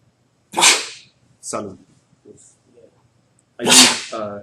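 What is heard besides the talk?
sneeze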